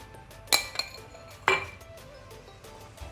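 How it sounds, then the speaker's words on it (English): Two sharp clinks of metal against a cooking pot ring out as threadfin bream pieces go into coconut gravy for a Kerala fish curry, with a smaller tap between them over quiet kitchen background. "Add the fish pieces to the gravy."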